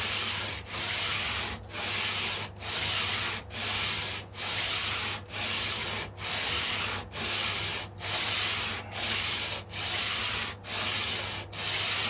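A late-1960s-style Stratocaster guitar part is sanded by hand with a sanding block, giving steady rhythmic back-and-forth rasping strokes, about fourteen of them, close and even, over a low constant hum, with no talking.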